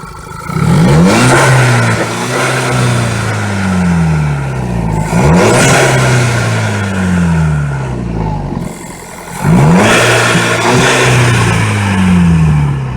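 Volkswagen Golf GTI Mark V fitted with a K&N air intake, revved hard three times in a row, each rise climbing sharply then falling back to idle, loud and close with no talk.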